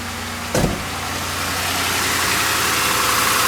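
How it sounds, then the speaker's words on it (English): Ford Crown Victoria police car engine catching on a cold start with a brief burst, then settling into a steady, close idle hum with faint vibration. "Let's start it up and listen to it when it starts up cold."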